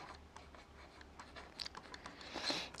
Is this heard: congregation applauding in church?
no